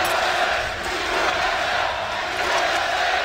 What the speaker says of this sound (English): The crowd trying to get Cloud9 into it.